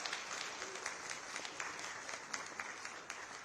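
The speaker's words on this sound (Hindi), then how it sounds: "जोरदार तालियों से अभिनंदन" Distant, steady applause fills a hall at an Armed Forces Flag Day Fund felicitation ceremony, greeting a housing-finance chief executive with continuous soft clapping throughout.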